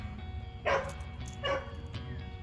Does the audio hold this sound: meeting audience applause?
no